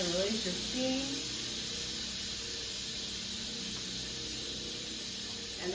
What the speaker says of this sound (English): you wanna go ahead and release your steam